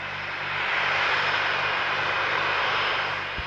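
A PIA airliner's engines roar at Karachi airport, a broad, loud, steady whoosh that swells slightly and holds, heard close with no voices.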